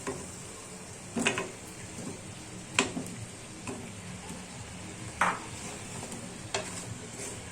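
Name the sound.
potatoes and cauliflower sautéing in pan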